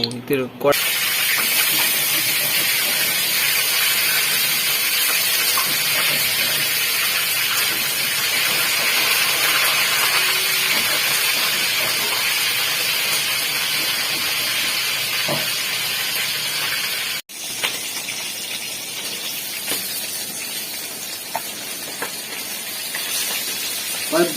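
Fish and potatoes fry in hot oil in a wok, giving a continuous loud sizzling hiss that dips briefly once, with voices nearby.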